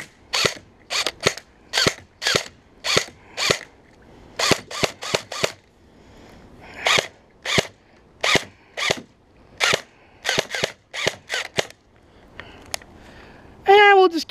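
A G&G Raider airsoft gun fires a magazine empty in sharp, close snapping shots, single and rapid clustered pops with brief pauses, ending with a rattling mechanical whir.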